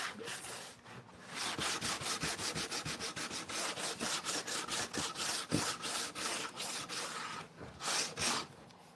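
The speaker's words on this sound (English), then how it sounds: "Put the air sander on that first, I think." An air sander working on pallet wood for a simple cabinet door, a steady close abrasive rubbing with rapid rhythmic strokes that run almost without pause, no talk over it.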